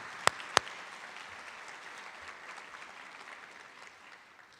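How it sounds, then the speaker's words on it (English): Two sharp claps ring out, then an audience applauds steadily at a high school academic awards ceremony, the clapping gradually fading away. "And big round of applause for Mrs. Silsby, who did a heck of a job"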